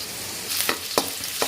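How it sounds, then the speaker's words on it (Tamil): Finely chopped garlic sizzles in hot oil in an iron wok, a constant close hiss with several sharp scraping stir strokes against the metal, no talking. "எண்ணெய் சூடாக இருந்தால் வந்து 1 டேபிள் ஸ்பூன் அளவுக்கு வந்து பொடியாக நறுக்கின பூண்டு ஆட் பண்ணிக்கலாம்"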